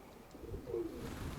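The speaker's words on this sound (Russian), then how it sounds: "Что-то он перепуганный, где-то что-то видит голубь." A short, low pigeon coo near a house in the settlement of Novoekonomicheskoe on a strongly windy December day, one faint call over a soft background rumble.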